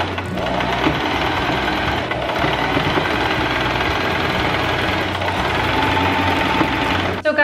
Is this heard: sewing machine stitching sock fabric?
yes